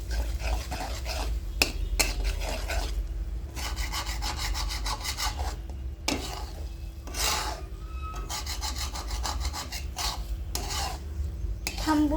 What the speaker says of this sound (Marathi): हे आता छानपैकी मिक्स करायचं आहे आणि ह्याला हलवत राहायचं आहे.